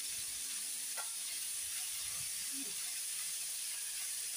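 Onions sauté for poori masala in a pan, making a soft, steady sizzling hiss that stays faint and even throughout.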